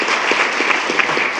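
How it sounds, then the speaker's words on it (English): Applause from the audience at a school board meeting honoring employees of the month, a brief, close, dense burst of clapping lasting just over a second. "one more round of applause for all of our February Employees of the Month"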